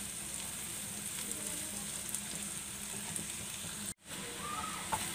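Ginger-garlic paste fries steadily in a pan, giving a continuous soft sizzling hiss with a brief dropout near the end and no talk.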